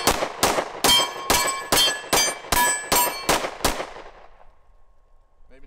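Ten rapid 10mm pistol shots from a Smith & Wesson M&P M2.0, sharp loud cracks in a quick steady rhythm, each ringing briefly before the string stops and leaves near silence.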